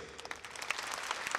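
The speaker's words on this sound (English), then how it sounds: "please give applause for each one of them" Audience applause at a live band concert during the introduction of the bass player, performed at EXPO 2005 Aichi in Japan; dense, steady clapping from a crowd fills the short stretch without a break.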